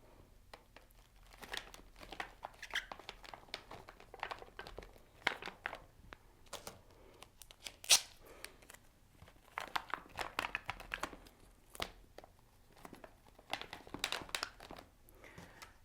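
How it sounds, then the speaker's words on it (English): Duct tape crinkles, tears and presses down as a strip secures a coffee filter on a stream table, producing close, irregular bursts of crackling and ripping throughout. "Secure that coffee filter with a piece of duct tape"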